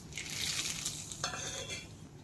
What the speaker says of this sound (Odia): ଚିନି ତ ମେଲ୍ଟ ହେଇ ଆସିଲାଣି। ଏବେ ସେଥିରେ କିଛି ଗୋଟା ଗରମ ମସଲା ଦେଇଦେବି।